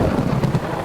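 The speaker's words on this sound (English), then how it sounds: "she heard a clap of thunder" A deep, rumbling thunderclap rolls briefly over a wash of rain, heavy and close.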